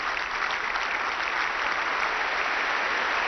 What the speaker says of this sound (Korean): 박수를 받으며.